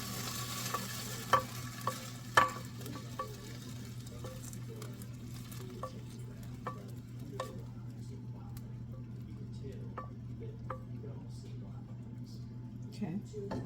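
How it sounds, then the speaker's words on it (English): Shrimp sear in a hot pan for a Cajun pasta, with a steady low sizzle under scattered sharp ticks and light scraping taps, close and moderately quiet, with no clear talk. "So let's get this shrimp seared."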